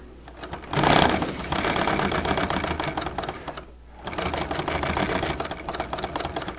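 A sewing machine stitches a folded, creased seam in acrylic fabric, close and loud with a rapid rhythmic patter, pausing once briefly midway before continuing steadily.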